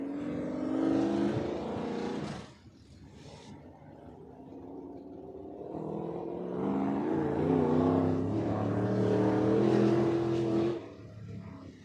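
Race cars at Deadhorse Creek Speedway, a dirt track, roar out of the fourth turn on the green flag, engines revving hard in a loud sustained drone that rises and falls as they pass.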